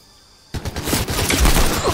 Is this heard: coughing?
no